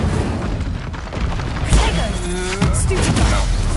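The Incendio fire spell is cast in Hogwarts Legacy, bringing loud whooshing bursts and low thuds during combat, with shouting voices mixed in over the noise.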